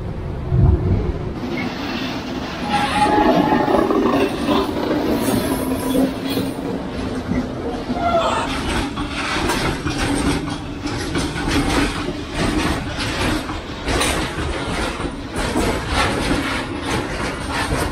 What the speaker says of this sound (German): Ah, diese Züge, die belästigen.